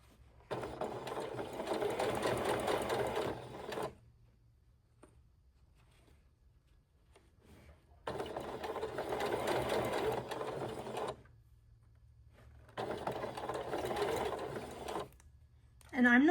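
Sewing machine stitching a bag at a slow, steady pace, a soft rapid patter in three separate runs of a few seconds each, with quiet pauses between them.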